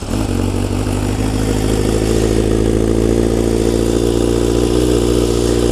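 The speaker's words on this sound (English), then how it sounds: "I'm going to start the bike up, get a reading at a couple of revs" A 2013 Honda CBR600F motorcycle runs with its exhaust, the engine idling in a steady, loud, close drone with a faint rise in revs partway through and no speech.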